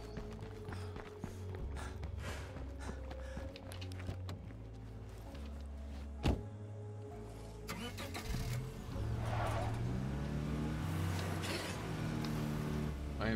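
A car engine in State of Decay 2 cranks and catches, then settles into a steady mid-pitched idle and revs up, close and fairly loud, with a sharp clunk partway through.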